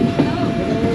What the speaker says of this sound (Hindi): 101 अब सुबह रफ्तार रेल कार अप्रोच कर रही है जेलम रेलवे स्टेशन पे